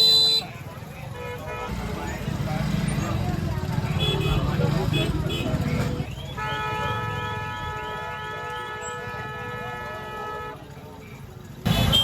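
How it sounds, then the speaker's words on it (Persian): Busy gridlocked street traffic with car horns honking repeatedly and overlapping, some long sustained blasts, under a constant roar of engines and crowd noise. "این همه صدا بوق میاد"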